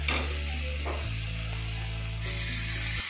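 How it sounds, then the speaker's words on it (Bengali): Marinated chicken dropped into a hot pan for coriander chicken fries with a steady, close sizzle that swells at about the one-second mark and carries on loud and unbroken, with no talk. "এবার এর মধ্যে আমি ম্যারিনেট করা চিকেনগুলো দিয়ে দেবো"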